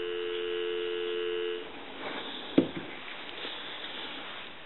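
A steady dial tone on a Western Electric 250W wood wall telephone hums alone for about a second and a half, then drops away to faint line noise with a soft click.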